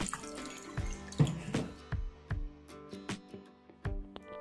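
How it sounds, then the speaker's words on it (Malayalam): Water is poured over raisins in a kitchen to rinse them, giving a quiet series of small splashes and drips at irregular intervals, close by and soft. "നമുക്കിതിലേക്ക് വീണ്ടും വെള്ളം ഒഴിച്ചു കൊടുത്തിട്ട് ഒരു 2-3 പ്രാവശ്യം കഴുകിയെടുക്കാം"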